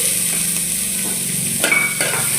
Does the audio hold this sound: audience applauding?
no